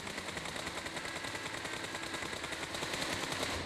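Rapid, continuous bursts of automatic gunfire in PUBG Mobile rattle on without letup, a dense, even stream of shots at moderate volume.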